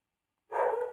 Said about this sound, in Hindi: रात बहुत हो चुकी है, बाहर कुत्ते भौंक रहे हैं भाई।